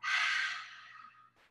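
A single long, breathy exhale during a gentle yoga session, starting strong and close, then tapering off softly, followed by a faint, brief breath at the end.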